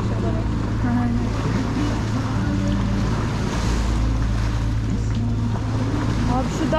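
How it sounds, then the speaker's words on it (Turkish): Sea waves heard aboard a tour boat off Antalya: loud continuous wash of water and wind buffeting against a steady engine drone, with people talking faintly over it. "Baksana dalgalara bak."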